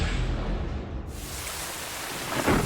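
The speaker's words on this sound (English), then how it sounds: "The rain will be off and on all afternoon. At times it is very heavy." Heavy rain pours down at an outdoor football game, a dense rushing roar with a deep low rumble that briefly thins and then swells again near the end.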